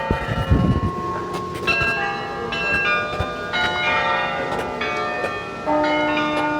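Church bells in Amsterdam ring out with sustained, layered tones over outdoor background noise, the chimes overlapping and lingering at moderate loudness.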